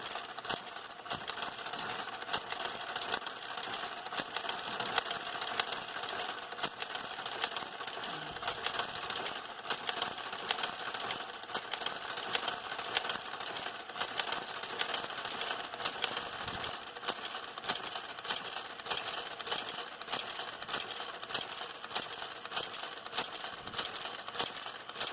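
A knitting machine on test runs steadily through a row, a fast, even mechanical chatter of clicks and whirring carriage noise that continues unbroken at close range.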